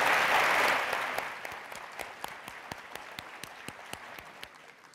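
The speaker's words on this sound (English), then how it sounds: "Let's give the panel a great big round of applause." Audience round of applause for an early childhood education panel at a community schools national forum, starting as a full burst of clapping that thins out into a few scattered, distinct claps as it fades.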